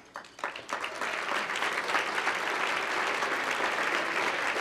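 Audience at a school recognition event applauds teachers, administrators and staff, with scattered claps at first swelling into sustained, full applause that fills the room.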